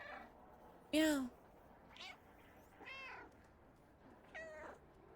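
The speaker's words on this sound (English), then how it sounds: "I'm just meowing to you." Short synthesized cat meows from a stray-cat video game, several separate calls over a few seconds, one loud and sharp and the rest softer, with faint background ambience between them.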